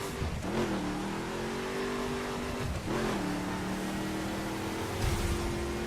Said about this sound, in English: You got a decent sounding engine, you've got lots of horsepower